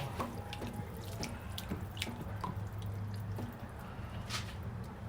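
Water runs and splashes into rice in a container, giving a continuous close trickle and pour with small drips and sloshing throughout.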